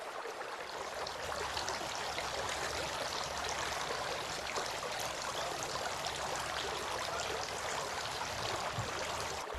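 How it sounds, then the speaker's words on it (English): Steady running and splashing water during ablution as the face is washed, a continuous close wash of sound with no break and no voices. "He then washed his face 3 times."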